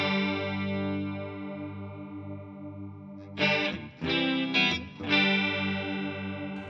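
Guitar through a TC Electronic TonePrint chorus effect with the dry signal mixed in: sustained shimmering chords, then a few harder strummed chords near the end, played alone.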